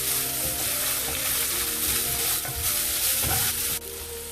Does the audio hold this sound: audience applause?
no